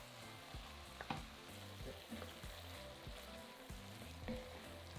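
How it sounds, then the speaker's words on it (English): Onions coated in tomato puree and spices cook in a pan for curry base gravy, a soft continuous sizzle broken by occasional stirring scrapes, close but fairly quiet, with no voices. "Stir to coat the onions and cook for a further 5 minutes,"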